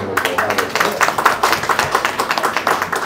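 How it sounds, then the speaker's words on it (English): Close, fairly loud clapping from a small audience at a Bengali community youth meet-and-greet, quick uneven claps lasting a few seconds with a hint of voices underneath. "So a round of applause for him as well."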